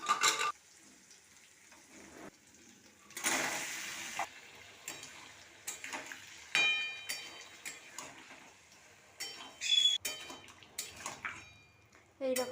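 Boiled papaya and potato go into a pan of frying spice paste, with bursts of loud sizzling, stirring scrapes and clinks of utensils between quieter stretches.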